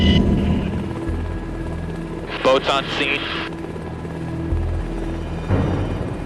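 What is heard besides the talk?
helicopter flying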